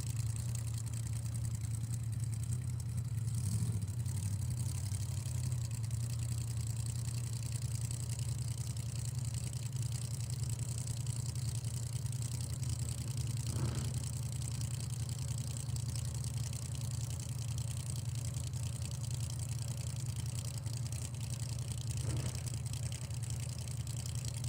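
A drag racing car's engine runs steadily on a parade lap up the hill at a drag racing event, a constant low droning rumble heard from a distance, with no voices.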